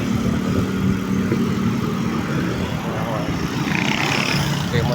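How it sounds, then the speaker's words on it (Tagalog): Near Moncada town proper, passing vehicles make a continuous rumbling roar of traffic. The sound is broad and steady and close by, heard from a moving bike. "Makapansin nyo, halos dikit-dikit na rin yung mga tunog ng mga sasakyan"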